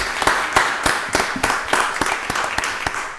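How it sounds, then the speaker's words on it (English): A room of attendees at a county board of commissioners meeting gives a round of applause, a sparse, evenly paced series of distinct claps of moderate loudness with little else around them. "Y'all give him a round of applause for the work that he's doing"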